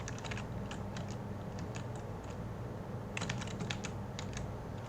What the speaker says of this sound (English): we type some C++